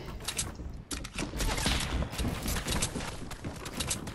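Shotgun blasts and other gunfire in a multiplayer shooter video game. Sharp, dense shots follow one another almost continuously at a fast, uneven rhythm, loud and close, with a brief lull near the start.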